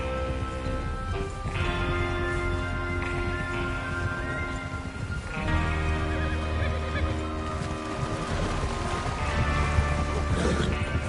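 Horses and gameplay ambience in the Red Dead Redemption video game, a steady dense bed of tonal game sound with rustling and shifting noise, moderately quiet throughout.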